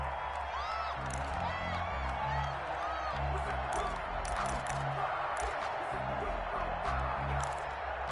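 Stadium crowd at an American football game with the Eagles, a steady roar of cheering and whooping with scattered shouts, loud and continuous, while a commentator talks over it.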